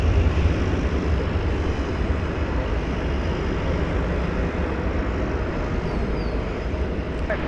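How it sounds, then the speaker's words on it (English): American airliner in Medal of Honor livery departing DFW Airport, a steady, loud broadband jet roar that holds evenly throughout with no talk over it. "Flight 1506, the Medal of Honor livery is now on its way to San Francisco."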